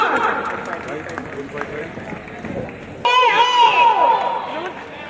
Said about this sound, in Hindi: जोरदार तालियां हो जाए, come on everyone.